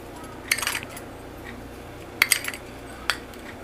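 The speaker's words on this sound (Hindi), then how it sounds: "और इसमें मैं 3 चम्मच जो है चीनी डालूंगी।" Spoon scooping sugar into a bowl of finely chopped kiwi, giving a few short metallic clinks and scrapes against the bowl, spaced apart and fairly close.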